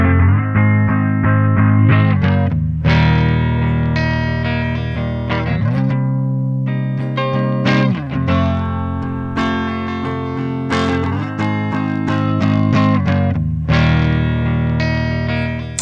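Distorted electric guitar through a Digitech CabDryVR cab simulator pedal with a light room reverb, loud sustained chords and riffs with a few shifts and short pauses throughout.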